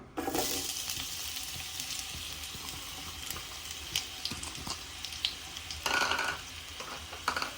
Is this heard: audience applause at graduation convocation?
no